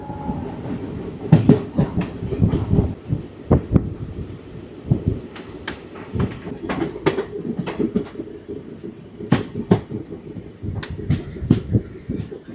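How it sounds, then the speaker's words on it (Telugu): The Nagarsol–Narsapur Express passes close by with a steady rolling rumble and repeated sharp clickety-clack wheel beats over the rail joints, loud throughout and with no voices. "ఇదే ట్రైన్ నాగర్సోల్ నర్సాపూర్ ఎక్స్ప్రెస్."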